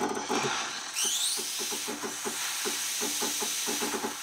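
The steam wand of a Kafmasino One espresso profiling machine hisses loudly at full steam, a harsh close-up rush with a rising squeal and sputtering pulses underneath.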